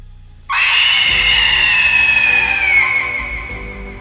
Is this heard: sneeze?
no